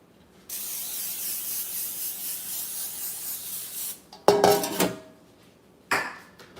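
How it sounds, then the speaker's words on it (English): Cooking spray hisses into a pan in one long steady burst lasting several seconds, followed by short clatters of a pan or dishes being handled nearby, with no talking. "Some spray for my pan here"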